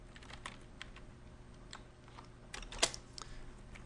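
Keystrokes on a computer keyboard at a desk, a scattered run of light clicks with a few sharper taps near the end, close and fairly quiet with no talking.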